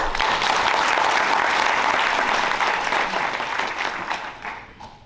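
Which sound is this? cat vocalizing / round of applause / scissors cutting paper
round of applause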